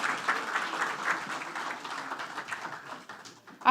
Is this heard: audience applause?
yes